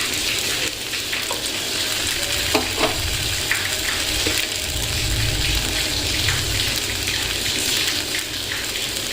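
Bread pakora fries in shallow oil over a low flame, a continuous close sizzle and bubbling with a few scraping taps of a utensil, no voices over it.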